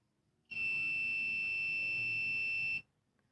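The alarm on an MBR 16 A short-circuit protector gives one loud, steady buzzing tone. It lasts a little over two seconds, then cuts off sharply, and nothing else is heard around it.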